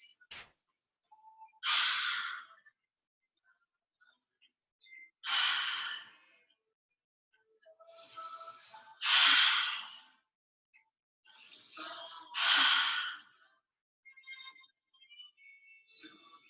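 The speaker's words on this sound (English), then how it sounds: "You can take some deep exhales here," Slow, deep exhales during a yoga stretch, five long breathy gusts spaced a few seconds apart, close and soft in an otherwise quiet room.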